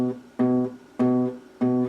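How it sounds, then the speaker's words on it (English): Three clean guitar notes fretted with the fingertip, each plucked with a clear attack and a steady, ringing sustain, close and moderately loud. "But if I was pressing it with the tip of my finger,"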